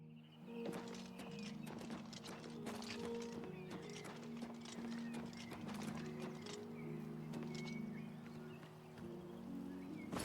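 Horse hooves clip-clop steadily through the Oblivion game world, a close run of hoof thuds with a brief neigh, set against a constant droning game music bed.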